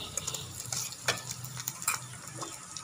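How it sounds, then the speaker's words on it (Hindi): Garlic and ginger paste sizzles and fries in ghee with onions, a steady near crackle broken by a few sharp stirring scrapes. "अब इसमें लहसुन और अदरक का पेस्ट शामिल कर दें।"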